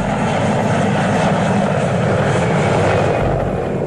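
A helicopter flies low over the sea, lowering three new search-and-rescue members, its steady loud rotor and engine roar continuous and close throughout.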